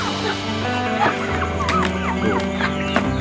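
Chickens cluck and squawk nearby in a yard where chickens and Muscovy ducks are kept, sharp clucks breaking repeatedly over a low background hum.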